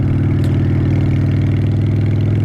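A Honda Shadow 750 motorcycle engine idling nearby, a loud, even low-pitched throb with a steady rhythmic pulse and no change in speed.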